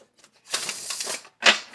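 An Urban Tarot deck of cards is shuffled in two close, crisp bursts of riffling, first a longer one, then a short sharp one after a pause.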